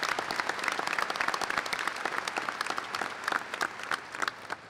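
Graduation ceremony audience applauding in a large hall, a dense, steady wash of many hands clapping that continues throughout at moderate loudness.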